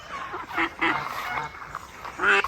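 Ducks and geese on a farm give a few short nasal honks and quacks in quick irregular bursts, close by and fairly loud.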